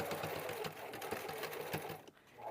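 A sewing machine runs a zigzag stitch in white thread, a steady close rattling hum with regular pulsing beats that stops near the end.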